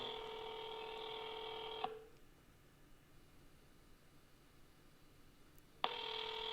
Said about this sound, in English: You pick up the phone.